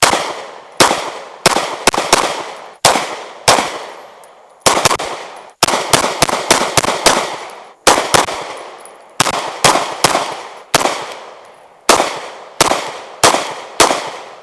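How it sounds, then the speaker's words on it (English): Rapid strings of suppressed rifle shots at an outdoor shooting range, a quiet-suppressor test, fired in quick bursts of sharp cracks with short pauses between groups, loud and close with no talking. "So let's go ahead and shoot her out,"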